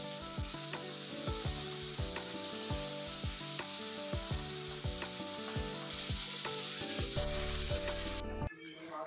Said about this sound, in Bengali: আর আমি আজকে রান্না করব কালো জিরে ফোড়ন দিয়ে, আলু বেগুন দিয়ে একদম শুকনো করে মাখা মাখা করে করব